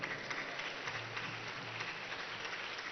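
Applause from an audience for teaching staff at a school event in Ranchi, Jharkhand: steady, dense clapping heard from some distance, fairly faint and even throughout, with no talk over it.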